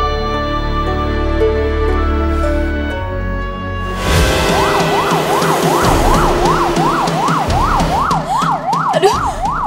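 An ambulance siren wails in a fast, rising-and-falling yelp that starts abruptly partway through and keeps cycling loudly over background sound, with no talking.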